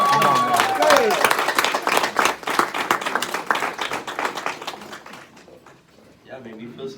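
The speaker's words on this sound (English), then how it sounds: "Give him a round of applause." Audience clapping for a mayor's keynote address, a burst of applause that builds, then thins out and fades near the end, with talking over it.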